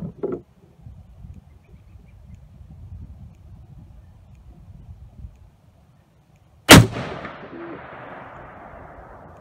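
A single sharp, loud shot from a Browning BAR Mark II Safari rifle fired at about 26 yards, ringing out with a trailing echo after near-silence.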